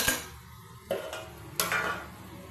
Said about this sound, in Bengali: এবার আমি ভালো করে এরম করে উল্টিয়ে নেব তলাকারটা ওপরে ওপরেরটা তলায়